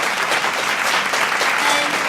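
A studio audience claps for a guest on an interview show, continuous dense applause that stays loud and even throughout the short burst.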